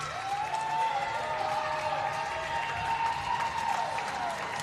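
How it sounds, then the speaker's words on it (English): Crowd noise at a junior hockey game between Rive-Sud Revolution and Atlantic Attack in Montreal: a steady, distant wash of fans cheering in an arena, with a whistle-like tone sliding across and faint commentary underneath. "you can hear the fans cheering on"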